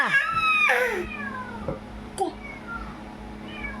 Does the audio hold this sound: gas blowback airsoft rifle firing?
no